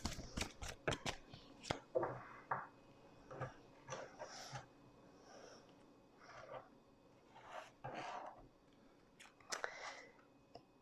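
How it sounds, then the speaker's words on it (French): A deck of cards cut in two and shuffled, with a rapid run of crisp riffling snaps at the start, then scattered shorter card flicks and taps close by, under soft background noise. "Et on va couper le jeu en deux."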